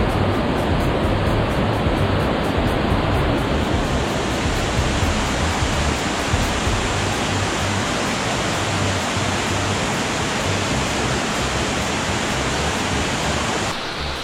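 A waterfall in Greece roars as a constant, loud, broadband rush of falling water, steady and close throughout.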